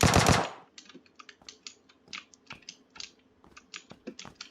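Gunshots in the PUBG Lite battle royale game, fired at the player after picking up an M416: a loud close burst opens, then a long run of sharp, distant cracks follows in irregular rhythm.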